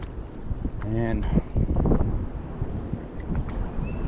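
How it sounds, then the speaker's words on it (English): Strong wind gusts roar steadily across an open shoreline during early-spring bobber fishing, a continuous buffeting rumble on the microphone with a voice speaking briefly over it. "You can see that the wind's howling today."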